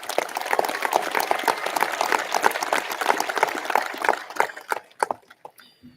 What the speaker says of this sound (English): Please give our class another round of applause.